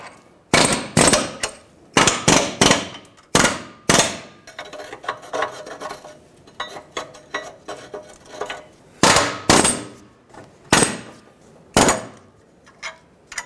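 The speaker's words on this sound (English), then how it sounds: "I'm going to have to just break the rest of this off." A rusted exhaust pipe on a 2008-2020 Dodge Grand Caravan is broken off by hand during a front catalytic converter job, with sharp, loud metallic bangs in irregular bursts between scraping, rasping and clanking.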